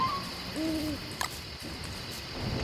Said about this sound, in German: ich habe da gerade eine Eule gehört